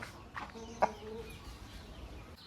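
A red-feathered Beras rooster, about a year and a half old, gives a few soft, brief clucks close by against a quiet background.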